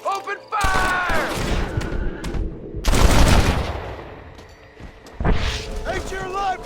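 Red Dead Redemption gunfire comes in several loud bursts of rapid shots with brief lulls between them, and shouting voices are mixed in.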